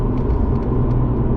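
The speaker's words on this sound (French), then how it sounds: "j'ai pas besoin d'appuyer beaucoup sur la pédale d'accélération pour entendre le bruit de cet échappement" Custom-made exhaust on a stanced Audi S5 V6 gives a steady, close low rumble with light throttle, a continuous deep drone and no voices.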